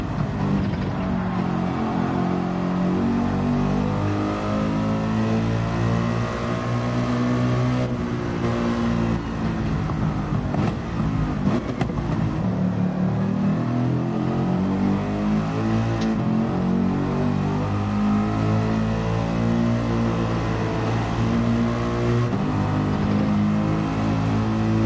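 A Gran Turismo 7 car engine revs hard and steadily through a mountain time trial, pitch climbing and dropping with gear shifts, loud and continuous with no talk over it.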